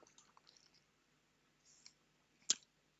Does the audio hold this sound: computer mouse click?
yes